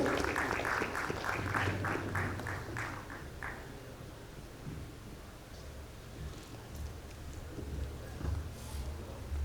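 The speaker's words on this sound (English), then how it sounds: "A big round of applause for Navneet ji for wonderfully moderating this fantastic panel session" Audience applause at a food allergen panel session at IFSSA2022, honoring the moderator: a dense, steady patter of clapping from a seated crowd that swells at first and then thins into scattered claps and room noise.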